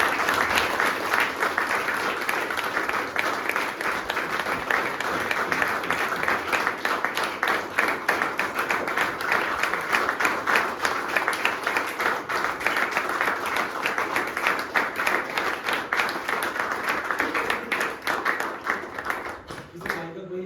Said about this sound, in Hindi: एक बार जोरदार तालियां हो जाए घर में